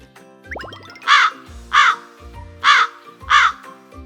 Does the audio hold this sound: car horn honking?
no